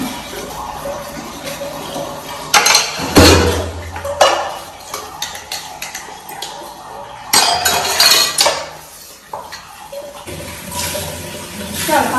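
Dishes, pots and pans washed at a home sink, with running water and repeated metallic clinks and clatters in uneven bursts, fairly loud and close, mixed with some talking.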